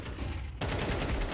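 Rapid gunfire in the video game Counter-Strike 2, a dense burst of sharp shots that jumps suddenly louder midway and continues as steady close-range firing.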